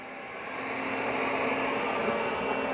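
A Shark CarpetForce EX551 carpet cleaner runs on suction only, giving a loud, steady, close roar that builds a little and then holds even, with no talking over it.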